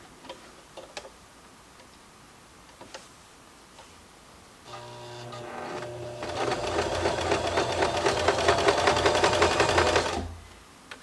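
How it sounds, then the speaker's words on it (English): A sewing machine stitches a narrow zigzag around the edges of appliqué poinsettia petals. A few faint clicks come first, then a loud, rapid, steady mechanical whirr runs for about four seconds before stopping. "I'm just going to be using a narrow zigzag stitch just around the edge of the pieces."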